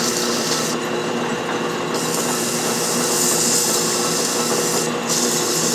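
Abrasive rasping of 500 grit paper sanding a rough lead flywheel casting, a steady continuous scratching close by with brief pauses in the stroke, no voices.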